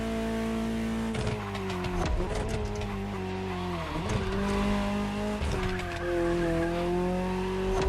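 A Ferrari GTO, the Gran Turismo Omologato derived from the 308 GTS, driven in The Crew Motorfest racing game: its engine revs and climbs through gear changes, with tire squeal and skidding, close and loud.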